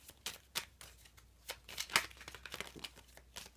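Tarot cards are shuffled by hand in a quiet room, a soft papery riffle of brisk flicks and rustles that runs steadily throughout, close and fairly faint.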